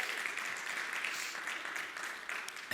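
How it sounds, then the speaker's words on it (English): Audience applause at a live session on stage, steady dense clapping from a crowd throughout, fairly loud and unbroken with no talk over it. "And they deserve a clap, another clap for that."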